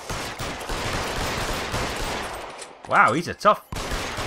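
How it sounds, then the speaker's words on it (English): Game gunfire from L.A. Noire's Vice Desk case: a long rattle of shots sits under talk, then two loud, sharp bursts near the end. "We are literally shooting him."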